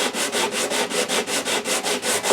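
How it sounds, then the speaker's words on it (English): Sandpaper wrapped over a narrow leather-backed block rubs along a wooden guitar neck in steady back-and-forth strokes, about ten even passes close up with no talking. "there is a slip of leather on underneath the sandpaper, and it just naturally flexes as I'm sanding and follows this"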